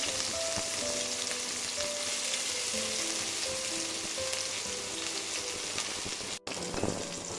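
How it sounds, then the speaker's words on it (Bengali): Chopped onions fry in mustard oil in a pot, giving a loud, steady crackling sizzle with occasional stirring scrapes and faint tonal clinks throughout; no one speaks. "পাতিলে দিলাম সরিষার তেল পেঁয়াজ কুচি দিলাম"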